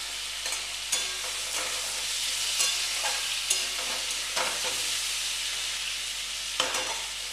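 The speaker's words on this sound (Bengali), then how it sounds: "চেরা কাঁচা লঙ্কা 4টে দেবো, একটু হিং দেবো, কোনো মশলা পড়বে না এর মধ্যে।" Slit green chilies and a pinch of asafoetida fry in a pan on low gas, giving a steady hissing sizzle dotted with repeated scraping clicks from a stirring utensil.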